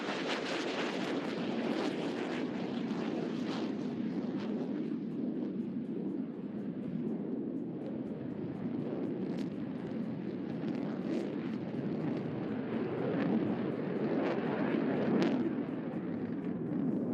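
Jet aircraft roar past at an air show during opposing horizontal rolls, a broad sustained rumbling roar from a distance, steady throughout with faint crackling ticks over it.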